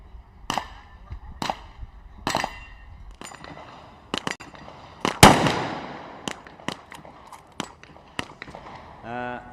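Sniper rifle shots ring out from a tower-top balcony at a SWAT challenge, a series of sharp, loud cracks spaced irregularly, with one especially powerful report midway and fainter knocks between.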